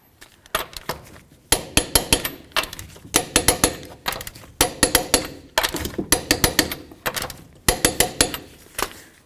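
Lug nuts torqued on a Toyota Tundra aluminum wheel: a torque wrench gives sharp metallic clicks in quick bursts of four or five, repeated with short pauses, close and crisp.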